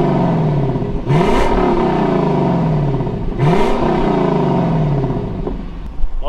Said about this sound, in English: let's rev the engine a little bit and hear some of that V8 music